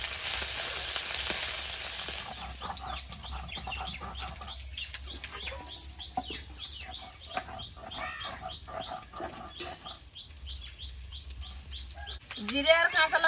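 A paste of ground cumin and green chilli frying in hot oil with whole garam masala, bay leaf, ginger-garlic paste and chopped onion, a steady sizzle with scattered crackles and spatula clinks, with a voice speaking over it.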